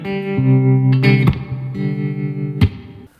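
A clean electric guitar picked through a Yamaha THR10C amp on its Class A setting with slapback spring reverb: ringing sustained notes and chords with a few sharp pick attacks, loud and close, with no voices.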